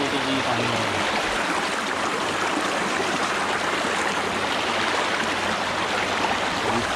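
Thermal spring water flows at Pamukkale in Turkey, a loud, steady rushing stream with continuous splashing and gurgling close by.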